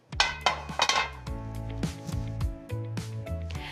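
Caraway ceramic pans and their lids knocking and clinking against a magnetic pan rack, a run of close metallic clanks and ringing taps with lingering tones, no talking.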